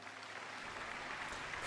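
Audience applause in the Genshin Impact video game, a continuous even patter of many hands clapping, fairly faint and uninterrupted by speech.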